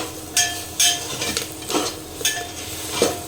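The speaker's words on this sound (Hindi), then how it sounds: "उसके साथ सबको अच्छे से भून लेते हैं।" Basic spices are roasted with vegetables in a pan and stirred; a spoon scrapes the pan in rhythmic strokes, about five or six close strokes over a steady soft sizzle.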